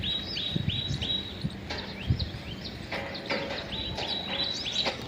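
Sparrows chirp in quick, repeated bursts close by, with short bright calls scattered over a steady background hiss.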